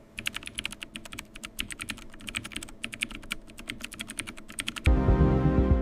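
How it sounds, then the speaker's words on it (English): A restored mechanical keyboard typed on in quick, crisp clacking bursts, close and continuous, before a louder low hum takes over at the end. "Every keystroke feels smooth and satisfying."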